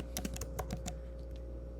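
Quick run of keystrokes on a computer keyboard, a handful of crisp clicks in the first second ending in a firmer Enter press, then a couple of faint taps over a steady low hum.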